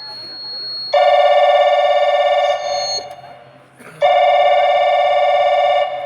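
A telephone rings in two long electronic ring bursts with a short gap between them, loud and close, after a number is dialled during a nautanki folk theatre performance.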